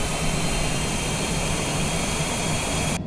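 Steady aircraft engine roar building for takeoff in Microsoft Flight Simulator, a loud continuous broadband drone with a constant whine, holding level until it cuts out abruptly at the end.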